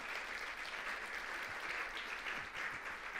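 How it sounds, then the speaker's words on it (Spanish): A church congregation applauds, a continuous wash of many hands clapping at steady volume, with a few louder nearby claps standing out. "Denle un aplauso al Señor,"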